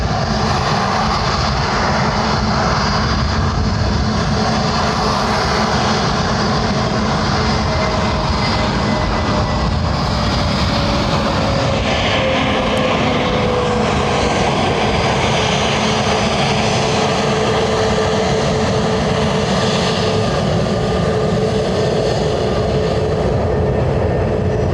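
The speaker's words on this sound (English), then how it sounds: "A321neo." An Airbus A321neo jet arriving from Gatwick at Lanzarote Airport gives a loud, sustained engine roar with a slowly falling whine, steady for the full stretch, with no voices.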